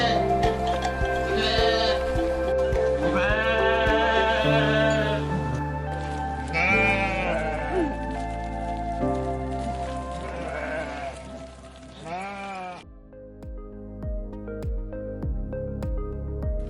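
Several sheep bleat in wavering calls over a steady musical backing, the voices rising and falling through the first twelve seconds before the bleats fade and only the music continues.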